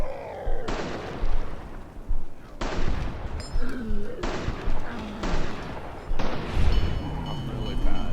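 Sniper rifle shots fired in slowed bullet time in Fallout New Vegas, about five deep, drawn-out booming reports spaced a second or so apart, each with a heavy low tail, fairly close.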